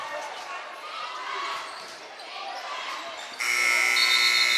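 A loud, sustained buzzer sounds at the end of a quarter in a high school girls' basketball playoff game, cutting in abruptly over crowd noise and sneaker squeaks and holding steady to the end.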